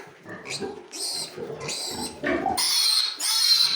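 Grunts and squeals of month-old piglets with their sow, a series of close, loud bursts that grow into sustained high squealing in the second half.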